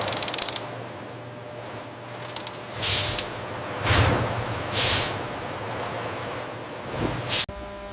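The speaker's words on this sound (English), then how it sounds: "Utilizing advanced sensors, this machine meticulously sorts the candied fruit" An optical sorting machine in a fruitcake factory sorts candied fruit and nuts, producing loud rhythmic pneumatic hisses and bursts of air over a mechanical rumble, with rattling and clicks at the start and a sharp clack near the end.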